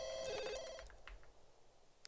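A phone rings in The Sims 2, a bright electronic trill sounding once up front and then trailing off into quiet, with no voices over it.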